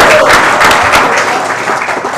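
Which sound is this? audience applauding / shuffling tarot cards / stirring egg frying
audience applauding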